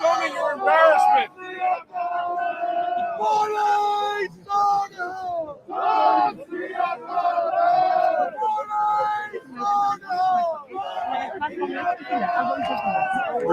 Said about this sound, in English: Big crowd behind us still.